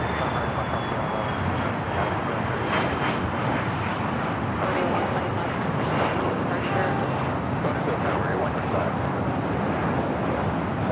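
Philippine Airlines Boeing 777-300ER taxiing toward runway 4 left at LAX, a continuous moderate jet engine drone with a faint high whine, steady and somewhat distant, with occasional voices in the background.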